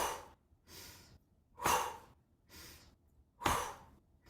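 A person exhaling during gentle qigong warm-up exercises, several breathy puffs in a slow rhythm, two of them stronger sighs, close and alone.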